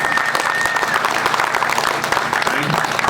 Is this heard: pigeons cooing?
no